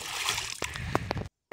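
A submersible water pump dropped into a water barrel for a greenhouse watering system, making sharp splashes and sloshing water for about a second before the sound cuts off.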